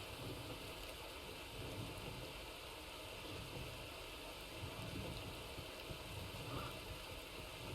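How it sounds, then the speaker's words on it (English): A rain and thunder storm in the Red Dead Redemption game roars as a dense, unbroken wash of rain with a low rumbling undertone, loud and continuous throughout. "Sorry, the rain's a bit noisy. It tends to be. Especially This when is so it's storming. yeah, especially when it like thunders,"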